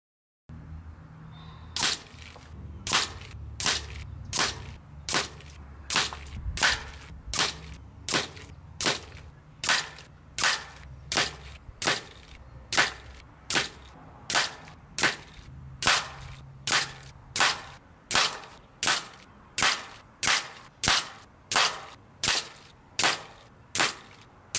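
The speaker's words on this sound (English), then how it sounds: "I'm gonna air it up to 200 bar and I'm gonna shoot 30 shots, three magazines, maybe four" Air Arms S510 TDR take-down air rifle, charged to 200 bar, fires a long steady string of about thirty sharp, loud shots at regular intervals, each a crisp crack with quiet gaps between and no voices.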